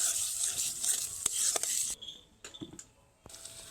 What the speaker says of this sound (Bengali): এইবার মশলাটা ভালোভাবে কষিয়ে নেব